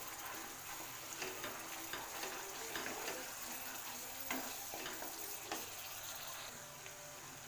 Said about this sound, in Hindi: बहुत अच्छी तरीके से भून ले मसाले को।